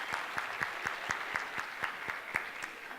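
Sparse, rhythmic hand clapping from a small audience, about a dozen evenly spaced claps over three seconds, moderately near and fairly quiet, with no voices.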